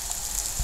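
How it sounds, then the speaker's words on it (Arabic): Heavy rain in Dahab, a brief burst of dense, steady hiss from drops striking surfaces, close and constant, with no voices. "مطر شديد في دهب النهارده"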